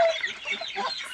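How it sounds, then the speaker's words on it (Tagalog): A flock of turkeys gobbles and clucks in a busy, overlapping chatter, close by and moderately loud. "yung mga alaga ko, mga pabo"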